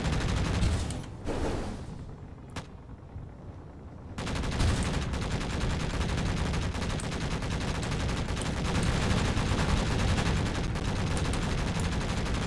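Heavy automatic gunfire from a hostile drone army in the game Space Engineers, loud dense bursts of rapid shots that pause briefly, then return as a sustained barrage.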